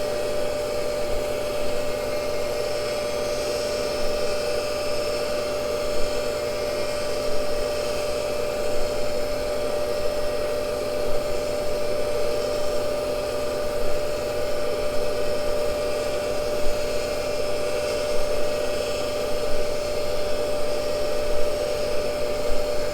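A Cincinnati tool and cutter grinder runs steadily while grinding a Morse taper in hard metal, a continuous high whine and hiss with a strong sustained tone, close and loud, no voices.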